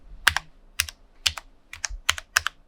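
Single keys tapped one at a time on a Cherry MX LP2.1 compact wireless low-profile gaming keyboard, six crisp, close clicks spaced about half a second apart with quiet gaps between.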